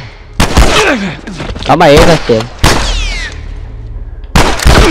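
Gunfire in The Last of Us on PS3, loud sharp shots bursting in irregular clusters amid game sounds, with a player talking over them.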